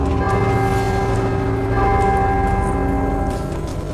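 A bell rung in the video game God of War II gives a deep, ringing church-like tone that sustains loudly and resonantly, with its overtones humming steadily throughout and no speech.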